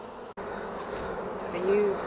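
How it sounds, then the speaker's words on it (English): Honey bees fanning at the front entrance of a top bar hive make a soft, steady buzzing hum close by, with no talk over it. "bees stand at the front and they fan"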